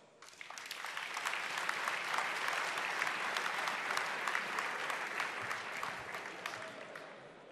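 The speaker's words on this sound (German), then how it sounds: "Einen großen Applaus an die Organisatoren." Hall crowd at a CSU Political Ash Wednesday rally applauding loudly and steadily for about seven seconds, dense clapping with a few sharper claps standing out, swelling in at the start and holding to the end.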